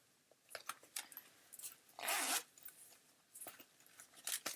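A zipper on a large wallet being pulled open, one longer close zipping rasp set among light handling clicks and rustles, no voices.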